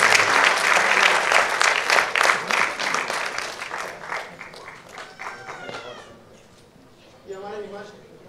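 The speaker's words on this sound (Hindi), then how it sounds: "दोस्तों जोरदार" Loud audience applause fills an award show hall, dense clapping that gradually thins and fades, with some voices and other sounds mixed in toward the end.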